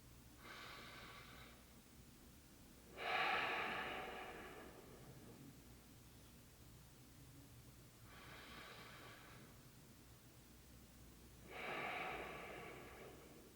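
Slow, deep breaths during a myofascial release session on the medial tibia muscles: four close, audible inhales and exhales in an even rhythm with long pauses between them, heard alone.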